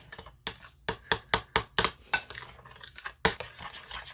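Utensils clatter and clink against a bowl as pasta salad is tossed, a run of about ten sharp, close scraping knocks in an irregular rhythm with short pauses.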